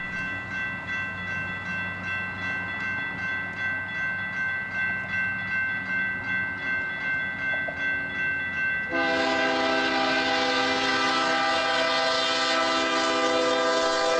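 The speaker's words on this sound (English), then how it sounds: "Our day started bright and early with a southbound autorack train through the old Capitol Hill neighborhood of Oklahoma City." A southbound autorack freight train rumbles past nearby in Oklahoma City with a steady clatter, then a loud, sustained multi-tone horn blares and holds for several seconds.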